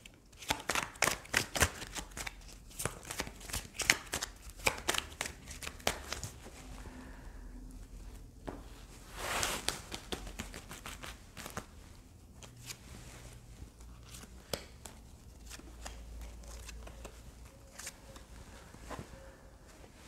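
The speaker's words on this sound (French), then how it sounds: "On va quand même prendre d'autres cartes." Tarot cards being shuffled by hand, with rapid riffling bursts and soft slaps repeating close up, busy at first and then settling into quieter handling and placing of cards.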